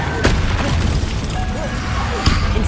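Incendio fire spell cast in Hogwarts Legacy, a burst of flame with booming low rumble and a sharp flare at the start and another near the end, over dense game noise.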